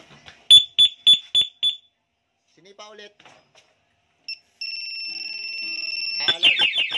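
A two-way motorcycle alarm fitted to a Yamaha Mio 125 is set off by a kick, giving a few short chirps and then a steady loud two-tone electronic siren that turns into rapid warbling pulses, with speech in Filipino at the start.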